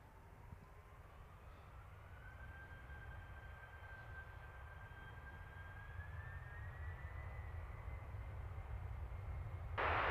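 An aircraft takes off at London Stansted Airport: a steady broadband engine roar with a thin whine that slowly rises in pitch, growing gradually louder over the whole stretch.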